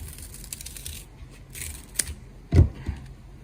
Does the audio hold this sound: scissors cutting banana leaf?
yes